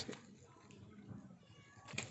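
A domestic cat gives faint, short meows near the start and again at the end, quiet and somewhat distant over low background noise.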